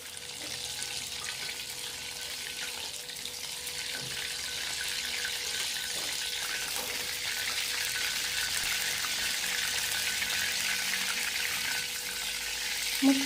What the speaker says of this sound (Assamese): চিকেনখিনি ফ্ৰাই কৰিছোঁ।